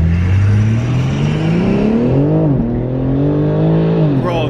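Loud, close engine of a 2021 BMW G82 M4 pulling hard, its pitch climbing steadily through the gears with a brief dip at a shift, sustained and powerful throughout.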